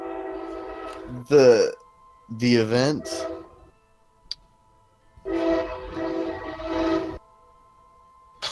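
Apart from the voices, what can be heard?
train passing with horn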